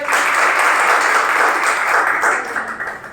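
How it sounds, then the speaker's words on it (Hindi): Students in a classroom clap loudly together in a sustained, dense burst of applause that holds steady for the full stretch before easing slightly at the end. "एक बार और बजाइए जोर से भाई।"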